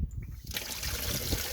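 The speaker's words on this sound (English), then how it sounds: "the best thing to do is basically use the water tap" Tap water runs and trickles into a sink while a paint sprayer is rinsed out, a soft steady flow that thickens after a brief quieter start.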